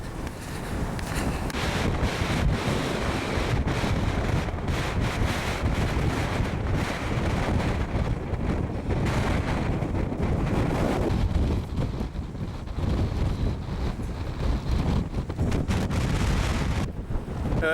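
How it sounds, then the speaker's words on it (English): Strong wind on Mount Kosciuszko buffets the microphone in a constant roaring rush, gusting louder and softer with no speech. "it's getting so windy up here"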